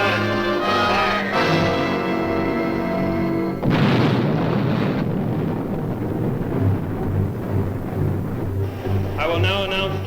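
Guided missile firing at the end of a countdown, a loud deep boom and roaring blast bursting in after a steady tonal hum and continuing as a sustained rumble for several seconds.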